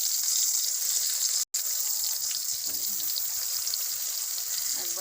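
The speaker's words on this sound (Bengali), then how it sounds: "বেগুনটা ভেজে নেবো হালকা করে।" Eggplant slices, seasoned with salt, turmeric and chili powder, fry lightly in oil in a kadai wok with a steady, dense sizzle. The sizzle runs throughout, broken by one brief silent gap.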